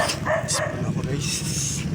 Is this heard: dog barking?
yes